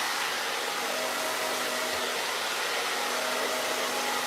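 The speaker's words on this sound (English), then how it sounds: "I'm going to be a little rougher with the blow dryer" A hair blow dryer runs continuously at close range while drying wavy hair, a loud, steady airy whine without pause.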